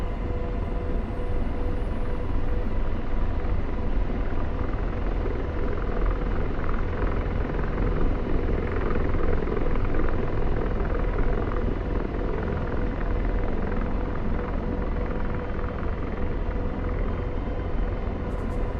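A helicopter rotor in the DCS flight simulator, a loud, steady whirring drone with a constant low rumble that holds unbroken throughout, with no voices.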